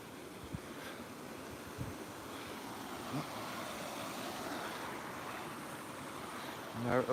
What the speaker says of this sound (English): all you can hear is a waterfall